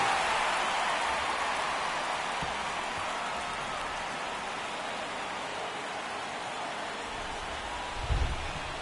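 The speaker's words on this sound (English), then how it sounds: "This rain is not letting up." Steady rain hiss in the baseball video game MLB The Show 23, a broad, even wash of falling rain that stays constant throughout with a brief low thump near the end.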